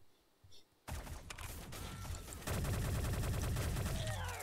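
Gunfire in Shell Shockers, an egg-themed online shooter, starts abruptly after a quiet moment, then breaks into a dense, loud, continuous volley of rapid shots that grows heavier partway through.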